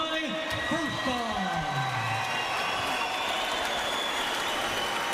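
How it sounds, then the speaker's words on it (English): Crowd at the King's Hall, Belfast, applauding and cheering after a Tyson Fury v Nicolai Firtha heavyweight boxing bout, dense and continuous throughout, with an announcer's voice over the start. "how about a big round of applause for Nicolai Firtha."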